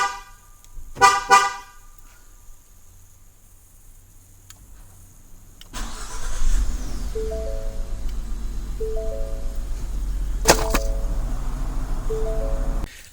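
A 2015-2016 Ford F150 gives a short horn chirp when the remote starter is triggered. After a quiet pause, the engine starts and settles into a steady idle rumble with faint intermittent tones.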